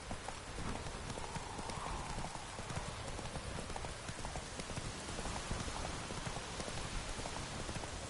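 Roach the horse galloping in The Witcher 3, with quick steady hoofbeats blended into a constant hiss of rain falling on surfaces, fairly faint and continuous.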